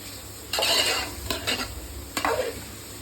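Masala cooking in oil for a country chicken pepper gravy, with a close sizzle broken by a few sharp stirring and spoon-against-pan clatters, no speech.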